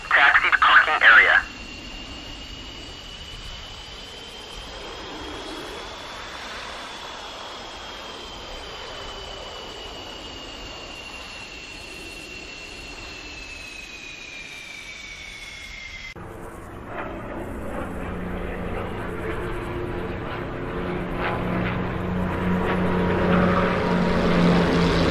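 An aircraft taxis to a parking area in the DCS flight simulator, a steady engine drone with a whining tone holding for about fifteen seconds before shifting to a rougher, broader rumble that slowly grows louder.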